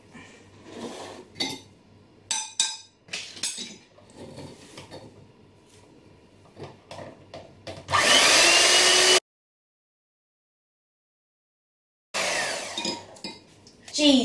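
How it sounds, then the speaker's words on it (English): Brownie batter being whisked in a bowl, a busy run of clinking, scraping strokes with bursts of louder mixing, broken by a stretch of silence before the whisking resumes; no clear speech over it. "and then whisk it"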